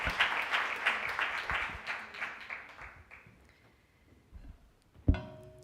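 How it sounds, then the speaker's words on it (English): Teachers in a conference audience applaud, the dense clapping loud at first and tapering off over several seconds, with a lone voice speaking near the end. "Give yourself a round of applause."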